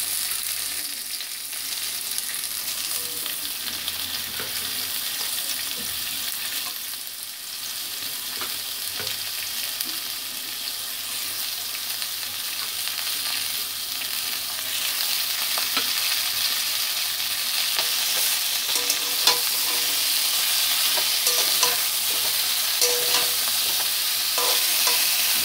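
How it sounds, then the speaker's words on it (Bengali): Ridge gourd and potato frying in a pan, a steady bright sizzle that grows a little louder midway, with faint scrapes and clicks from stirring throughout, close and without talk. "এবার ঝিঙেগুলো দিয়ে দেবো।"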